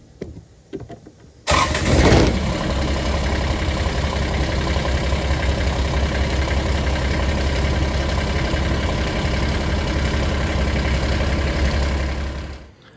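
A homestead engine, likely a car or small vehicle, cranks briefly and catches, then settles into a steady, loud, close idle that runs alone for about ten seconds before cutting off.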